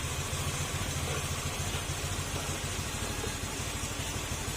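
A Honda Beat FI motorcycle engine idles steadily while warming up, a low, even, throbbing pulse running under a constant background hiss, with no talk.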